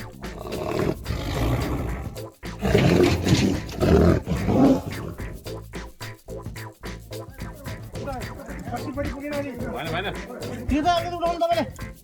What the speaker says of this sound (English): This rare Amur tiger was relocated after preying on village dogs.